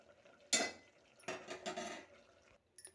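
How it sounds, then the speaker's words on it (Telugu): Boiled lentils being mashed with a dal masher in a pot, giving a few short, close clattering knocks and scraping clinks in separate bursts, with no talk. "పప్పు గుత్తితో ఇలా మెత్తగా నలుపుకున్నాం"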